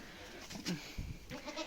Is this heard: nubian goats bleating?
yes